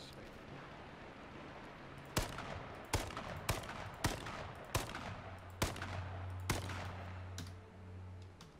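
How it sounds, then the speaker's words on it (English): Gunfire between players in the battle royale game H1Z1 crackles in about eight sharp, evenly spaced shots against a low background hum, fairly quiet overall with no talk over it. "Okay, they're gonna shoot each other."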